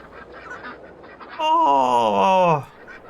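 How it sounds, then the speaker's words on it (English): Ducklings in the Farming Simulator 22 video game give a loud honking quack lasting about a second, following quieter background sounds. "Where are the ducklings? I want to see the duck."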